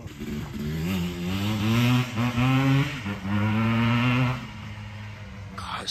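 The two-stroke engine of a Yamaha Blaster ATV revs up and down repeatedly, close and loud, with a buzzy rising and falling tone for several seconds before settling back.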